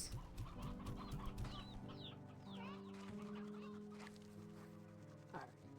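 Game chickens in Slime Rancher 2 cluck and squawk in quick, repeated bursts, a busy flock of fowl calls close by with a faint background music bed and no talk.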